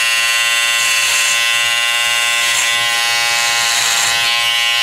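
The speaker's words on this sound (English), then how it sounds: "So that's one of my Andys cordless trimmers." An Andis cordless hair trimmer runs steadily up close, a loud, even buzz that holds without a break.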